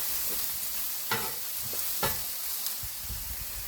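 Onions and vegetables sizzle on a hibachi grill as a spatula stirs and scrapes them around, with scattered scraping clicks over a steady frying hiss.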